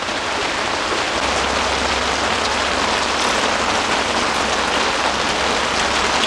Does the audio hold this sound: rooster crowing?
no